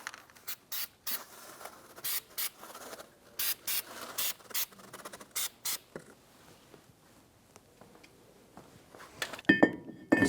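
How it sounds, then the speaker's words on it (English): Aerosol anti-seize sprayed onto a wheel hub surface of a 2011-2021 Jeep Grand Cherokee during a front bearing and hub replacement, heard as a series of short, sharp hissing bursts close up, followed by quieter handling noise. "Now we're going to spray our surface with some anti-seize."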